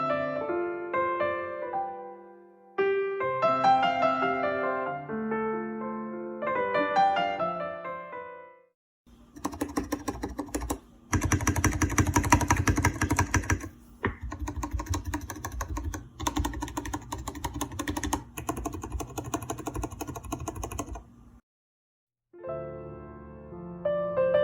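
Rapid, steady clacking of keystrokes on a computer keyboard whose spacebar had a loose-side fault, now fixed, up close for about thirteen seconds, with tonal melodic notes before and after.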